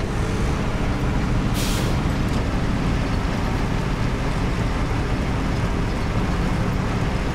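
A heavy truck in the SnowRunner video game drives with a continuous loud, dense engine and road rumble, and a short sharp air brake hiss bursts out near the start.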